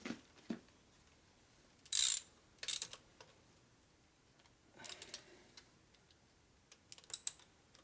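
Torque wrench tightening cylinder studs on an S&S 113ci Evolution Harley motor, giving a few sparse, quiet ratcheting clicks and ticks with near silence between them.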